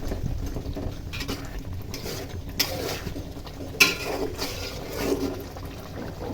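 Thickening leftover khichuri cooked without dal spatters and pops in a pot as it is stirred, giving scattered close clicks, soft bubbling and a few sharper splats over a low simmering background.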